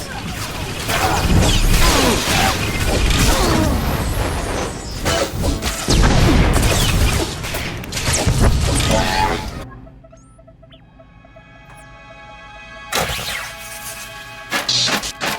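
Heavy mechanical clanks, crashes and thuds from machine locking mechanisms disengaging in the sci-fi game Star Wars: The Old Republic, loud and dense for about ten seconds, then a quieter hum with a few sharp bursts near the end.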